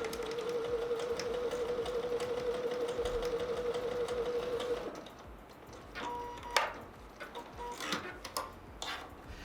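A sewing machine stitches patchwork quilt pieces, a steady rapid whirring hum for about five seconds, then stops, leaving scattered small clicks and handling knocks.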